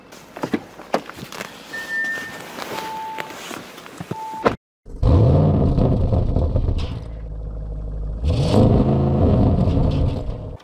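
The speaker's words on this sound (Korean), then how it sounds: "시동 소리가 아주 우렁차죠." An Audi RS6 Avant wagon with a 600-horsepower engine gives a few chimes and clicks, then starts with a sudden loud roar and settles into a deep, close idle, followed by a second rev that swells and falls.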